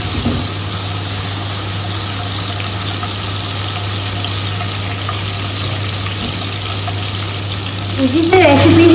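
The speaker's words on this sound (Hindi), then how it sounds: "ऑयल डालने के बाद हम यहाँ पर डालेंगे हाफ टी स्पून के करीब लहसुन।" Garlic frying in hot oil for a white chicken karahi, a steady broadband sizzle with a constant low hum underneath, growing slightly louder near the end as stirring begins.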